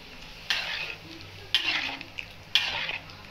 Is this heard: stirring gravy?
yes